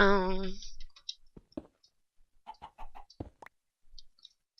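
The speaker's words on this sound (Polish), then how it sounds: "No mamy chyba jednego kurczaka." A chicken gives a loud, close drawn-out squawk, then a series of short, soft clucks and scattered clicks in a quiet room.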